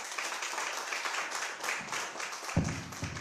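A church congregation applauds at the close of a prayer, with steady, dense clapping across the whole stretch and a low thump near the end.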